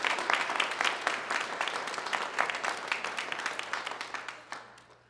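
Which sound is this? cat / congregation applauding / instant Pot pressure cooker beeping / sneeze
congregation applauding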